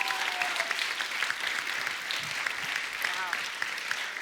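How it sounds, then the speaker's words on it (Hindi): Audience applause in a television comedy show studio, a steady burst of clapping from a crowd that carries on for several seconds, with a voice faintly audible underneath. "तो इस बात के लिए तालियां बनती है"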